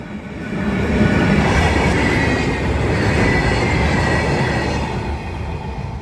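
A train rolling across a railway bridge near a canal, a loud, steady rumble of wheels and wagons that swells in and holds throughout, close by.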